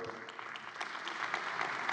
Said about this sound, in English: You might want to hold your applause.